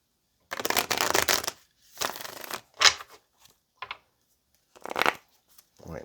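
A deck of tarot cards is shuffled in several separate bursts of riffling and sliding, close and crisp, with quiet pauses between them.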